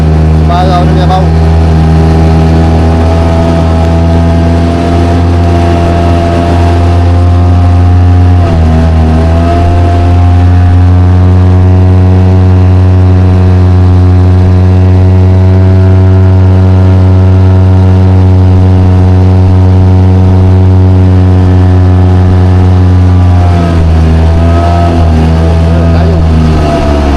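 A fishing boat's outboard engine runs steadily and loud at close range for the whole stretch. It dips briefly twice as the throttle shifts, on a river where nets are set for baung and lampam fish.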